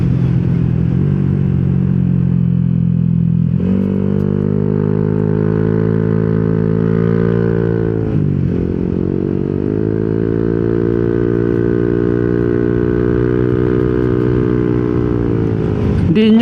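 A Yamaha Nmax scooter fitted with a TSMP CVT set revs hard and steadily up close, its engine note holding high, dipping briefly and climbing again before cutting off, with no talk over it.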